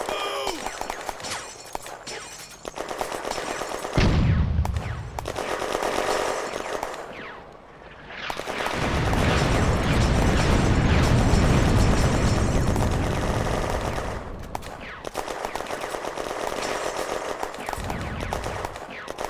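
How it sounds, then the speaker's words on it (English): Artillery barrage in the WWII tactical wargame Firefight, May 1940 assault on the Flaumont industrial zone: heavy rolling bursts of gunfire and booming detonations in sustained waves, loud and close, with brief lulls between salvos. "The artillery fire their barrage."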